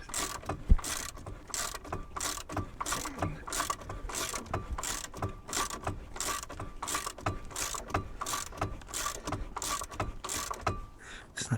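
A ratchet loosening a bolt on a van clicks in quick, regular strokes close by. The rhythmic pawl clatter repeats steadily with a brief pause near the start.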